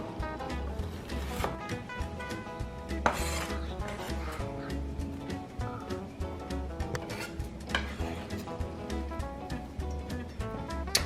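A knife slices cabbage thinly on a cutting board for cabbage salad, making steady, quiet rhythmic taps under background music.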